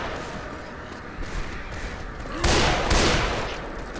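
Explosive-ammo gunfire in Left 4 Dead 2, a dense rattle of shots with a couple of sharper loud blasts midway, continuous under game ambience.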